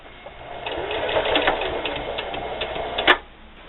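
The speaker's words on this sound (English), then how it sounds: "I'm here at my sewing machine. I'm going to be using a 1/4 inch seam allowance to sew on this binding." A sewing machine stitches binding onto a Halloween hexagon table topper at a quarter-inch seam, running in a fast steady whir with rapid needle ticks for about three seconds, then stopping with a sharp click.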